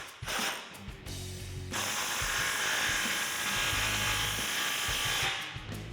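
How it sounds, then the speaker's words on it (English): A ratchet with a 15mm socket tightens an exhaust clamp on a 2017-2019 Ford F-250 Super Duty 6.7L. Rapid, buzzing ratchet clicks come close and clear in two bursts, the second long and steady. "And with a 15mm socket, tighten it down."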